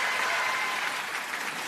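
A talent-show semifinal audience in France breaks into sustained applause, a dense, even roar of clapping heard alone without speech.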